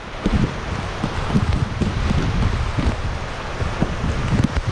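Steady, strong wind roars against the microphone with a dense rushing wash of rain on a rice farm, constant and close for the whole stretch.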